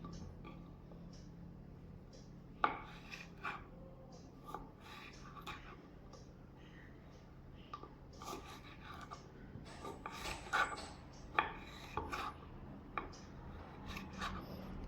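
A knife slices jackfruit thinly for chips, giving soft scraping and rasping strokes in an irregular rhythm. The cuts are close but quiet against a faint background, with no talking.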